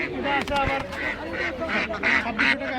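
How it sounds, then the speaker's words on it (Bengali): Ducks and geese at a village poultry market in Fatullah, Bangladesh, give repeated quacks and nasal honks amid steady crowd chatter and background voices. "এই যে দেখতে পাচ্ছেন মাসাল্লাহ অনেক সুন্দর সুন্দর হাঁস মুরগি নিয়ে আর কি বসছে"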